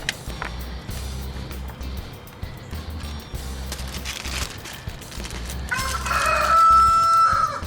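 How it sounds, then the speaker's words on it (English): A rooster crows repeatedly in a workshop setting, loud and close, with a long drawn-out crow near the end over steady low engine or machinery hum. "those birds are nuts today. They're gonna drive me crazy."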